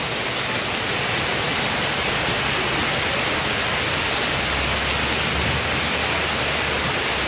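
A steady monsoon downpour soaks a Konkan village during the season's first rain, a loud, unbroken wash of rain hitting surfaces nearby. A low rumble joins it near the end, and nobody speaks.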